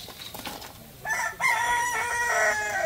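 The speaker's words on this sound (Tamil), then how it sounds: "கோழி கூவுது, சேவல் கூவுது" A rooster crows loudly and close by in one long, drawn-out call with a few rising notes, heard over light background noise from an earlier fainter bird call.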